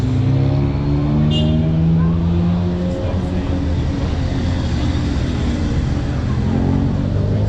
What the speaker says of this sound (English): I'm pretty sure the last one was a Citroen.